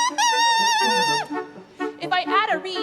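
A bassoon reed blown on its own, without the instrument, gives a thin, buzzy, squawking tone, one held note and then a few short bending squeaks, close and loud with no talking.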